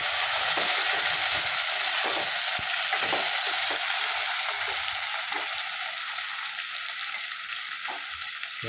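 Tomatoes sauté in hot oil in a pan for Chennai-style mutton biryani, giving a loud, constant sizzle with intermittent scraping and stirring from a spoon close by, and no talking.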